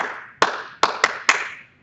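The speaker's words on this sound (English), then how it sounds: "all you got to do is give them a rhythm clap" Four sharp hand claps in an uneven rhythm, close and clear, each ringing briefly into a quiet room.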